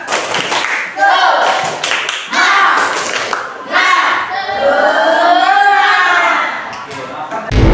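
A school class performs the rhythmic 'tepuk semangat' clapping chant, sharp group claps landing in a set pattern while young voices chant along close by.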